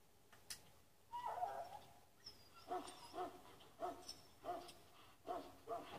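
A sick dog in the video game Dragon Age whimpering in a run of short, evenly spaced whines, faint and close, with no talking.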